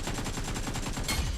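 Rapid automatic gunfire from a shooting video game, a fast burst of close, sharp shots in quick rhythm with no talking.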